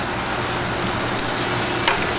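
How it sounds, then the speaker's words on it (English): Flank steak sears in a hot pan at a bistro kitchen, giving a steady, loud sizzling hiss throughout with a couple of brief sharper crackles near the end. "I'm gonna let this sear for about 1 minute and then place it in the oven"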